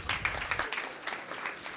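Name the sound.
audience applause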